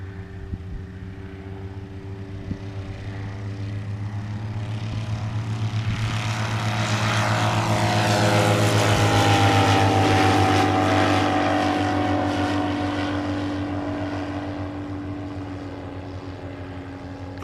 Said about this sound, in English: He's giving us some power,